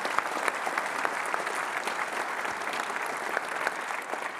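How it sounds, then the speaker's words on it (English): Steady applause from a conference audience at a software keynote, dense clapping sustained evenly for several seconds with no speech over it. "Give them a round of applause."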